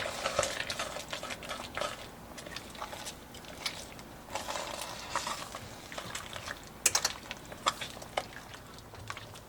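Stirring strawberry rhubarb jam in a Dutch oven, with soft scraping and bubbling textures and a few sharper clicks of the spoon against the pot, steady and close throughout.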